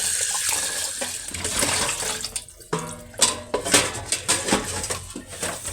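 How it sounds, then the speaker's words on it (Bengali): Dishes, pots and cutlery being washed in a kitchen sink under a running tap, with a steady water stream, clattering plates and clinking utensils, close and fairly loud, no talking. "কালকে সেই বাসি থালা বাসন এবার সব ধুতে হবে।"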